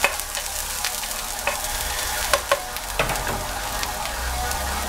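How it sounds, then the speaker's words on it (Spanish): Chopped garlic and onion sautéing in a pan, giving a steady close sizzle with scattered crackles and a few clinks of stirring over its nearly five seconds, no voices. "Picamos el ajo y la cebolla como los chimpis. Y vamos a sofreír."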